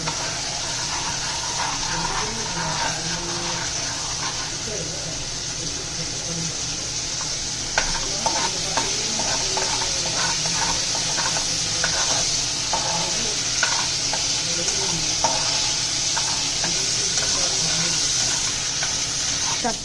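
Mutton sautéing in a pan, a steady bed of sizzling with frequent scraping and stirring knocks from a utensil, continuous and close throughout with no voices.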